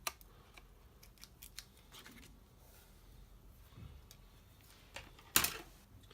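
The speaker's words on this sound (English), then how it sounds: "we can just turn this over and cut off the excess." Scissors trimming excess paper off a handmade card, quiet scattered snips and paper rustles, then one louder crisp cut near the end, close and alone without talk.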